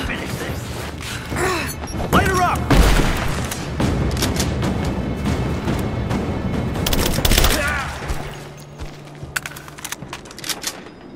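Gunfire rattles through a firefight in the video game Rise of the Tomb Raider, with loud bursts, booms and mechanical clatter in rapid succession, then it thins to scattered shots. Voices shout over the shooting.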